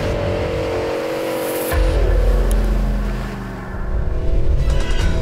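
A Nissan Patrol Y62 four-wheel drive climbing rough winter terrain at Mt Skene, its engine roaring hard with rising and falling revs and a deep low rumble, loud and close throughout.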